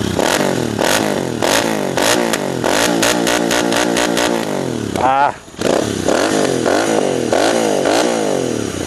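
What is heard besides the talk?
Royal Enfield Interceptor 650 motorcycle engine revving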